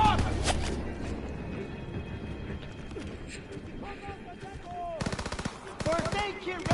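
Machine gun fire in the World War II shooter game Call of Duty WW2: a loud opening burst, then dense rapid bursts in the second half, mixed with game sound effects and a voice.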